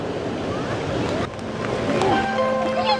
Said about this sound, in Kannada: ಅಲ್ಲಿ ಗೇಟ್ಸ್ ಓಪನ್ ಆಗಿ ಬಂದಿರೋದು ನೀರು ಫುಲ್ಲು